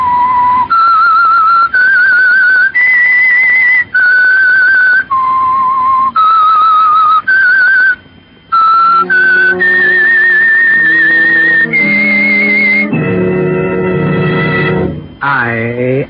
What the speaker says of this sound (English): whistle is your signal for the signal oil program